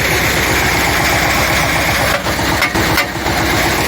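A Shifeng SF 160 walk-behind tractor engine runs steadily at idle with a rhythmic low chug, close and loud throughout, with no talking.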